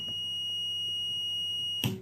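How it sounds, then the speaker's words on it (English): A Millennium oxygen concentrator, switched on while unplugged, sounds its power-failure alarm: a steady, piercing high electronic tone held continuously, with a short clunk near the end. "it just alarms because I haven't plugged it in yet"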